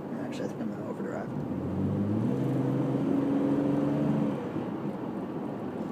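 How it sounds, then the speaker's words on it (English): Engine of a Jeep WJ driven with overdrive off, a steady low hum that swells into a louder, higher-revving drone with a rising harmonic whine in the middle before easing back down. "I'm driving with overdrive off."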